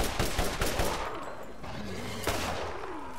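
Gunfire from the Borderlands video game, a burst of several sharp shots up front and another crack near the end, loud against dense game background noise.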